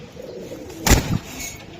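A single short, close coo from a young racing pigeon rises briefly over quiet background noise.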